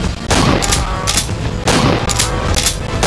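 Loud gunfire in the Primeval Hunt arcade game, with two bursts of rapid, booming shots separated by a short gap, each followed by brief high ringing tails.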